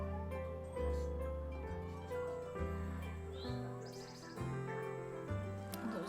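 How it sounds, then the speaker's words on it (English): Birds in the video game Cattails: Wildwood Story chirp faintly over soft, stepping background music, with a few short tweets scattered through the passage. "bird noises."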